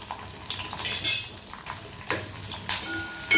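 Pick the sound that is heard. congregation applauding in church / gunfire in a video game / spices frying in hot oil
spices frying in hot oil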